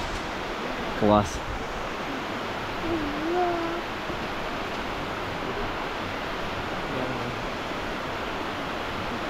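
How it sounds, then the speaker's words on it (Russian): A large cascading waterfall and river in Jermuk, Armenia, make a steady, broad rushing roar throughout, with a brief exclamation from someone nearby early on. "Я смотрю на этот водопад."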